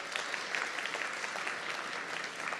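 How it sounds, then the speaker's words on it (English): Audience applause at an education-week launch event, a sustained crowd of clapping hands at moderate level, even and continuous from start to finish. "So please give the Virginia Lottery a round of applause"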